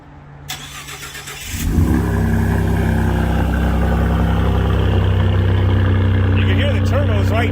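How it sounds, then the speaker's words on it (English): Ford 3.5 EcoBoost V6 fitted with 3-inch downpipes and a high-flow turbo exhaust adapter cranks and fires, then holds a loud, steady idle with turbo whine audible over the exhaust drone; someone speaks briefly beforehand. "You can hear the turbos right through the pipe."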